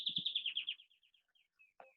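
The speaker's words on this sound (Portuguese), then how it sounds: "é porque eu estou escutando o som do passarinho" A small songbird gives a quick run of bright, high chirps that slow and fade, then a last short call after a pause. A couple of low thumps sound near the start, and no one talks.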